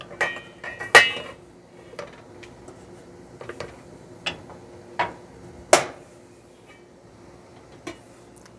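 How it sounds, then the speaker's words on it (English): A spoon stirs homemade elderberry syrup in a pot on the stove, giving sparse, sharp clinks and taps against the metal at irregular intervals over a quiet background. "Got to stir this other syrup I've got going on over here"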